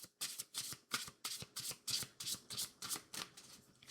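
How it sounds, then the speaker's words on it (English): Oracle cards are riffled and shuffled quietly and close up, a rapid run of about a dozen soft, crisp papery flicks in a regular rhythm with no talking. "I'll just take one card from here too."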